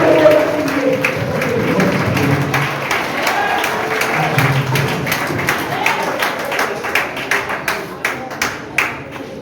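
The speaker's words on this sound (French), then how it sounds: "Applaudis pour Dieu matin, pendant qu'il a passé dans la vie." A congregation at a regional church convention applauds steadily, the claps growing into sharper, more distinct hits toward the end, with a faint murmur of voices beneath.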